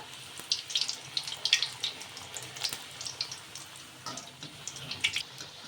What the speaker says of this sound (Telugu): ఆయిల్ బాగా వేడెక్కిన తర్వాత మనం పూరీని అయితే వేసేసుకుందాము